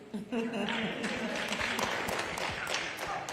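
An audience at an Essence Festival civil rights roundtable panel applauds, a dense clapping that runs steadily for a few seconds with voices talking over it.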